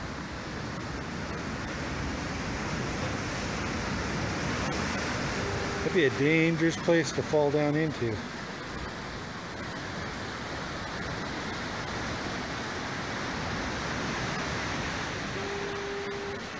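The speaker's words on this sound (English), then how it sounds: "You can hear the ocean in between all these." Ocean surf surges beneath and between structures on a coast, a steady broadband wash of water under someone talking, with a brief tonal burst in the middle.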